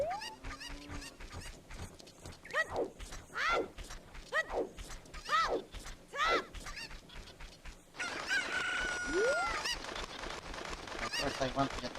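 Cuckoo chickens in Legend of Zelda: Ocarina of Time squawk and cluck loudly in a rapid series of rising, honking calls, several birds overlapping, with a denser chorus of cries in the last few seconds.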